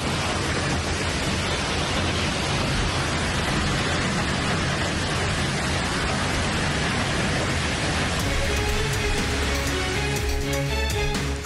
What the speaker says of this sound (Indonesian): Angin kencang disertai hujan menerjang permukiman warga